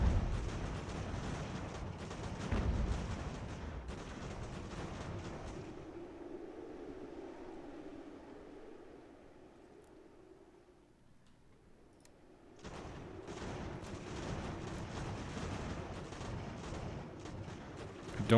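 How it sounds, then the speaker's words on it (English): Artillery fire in the game Ultimate General: American Revolution during a large battle at Boston, heard as a dense rumbling barrage of distant booms that thins into a quieter lull and then swells back to full strength. "Artillery's opening up."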